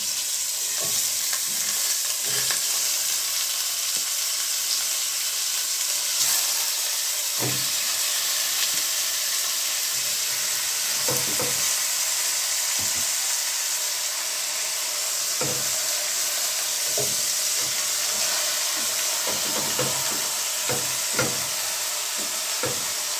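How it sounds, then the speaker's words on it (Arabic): Chicken pieces frying in hot oil in a home kitchen pan, a dense continuous sizzle and hiss with scattered pops and crackles throughout, close and steady with no talking. "هنحط الفراخ بتاعتنا كده تاخد صدمه الاول"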